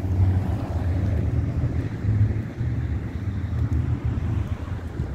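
Strong gusty wind buffets a handheld microphone outdoors, a loud low rumbling roar that surges and dips without a break, with no voices over it.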